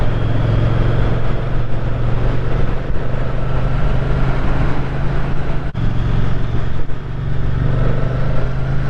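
A Moto Guzzi V100 Mandello motorcycle engine drones loud and steady throughout, a continuous deep throb with a brief dip near the end and no voices.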